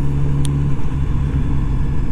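A new motorcycle's engine rumbles steadily at close range while being ridden, with a low hum running throughout and no talking.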